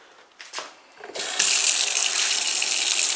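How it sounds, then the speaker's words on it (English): Water from a tap rushes into a kitchen sink used for cleaning catfish, preceded by a couple of clicks and handle sounds, then a steady loud hissing stream. "I like to start off by putting a little water in my sink."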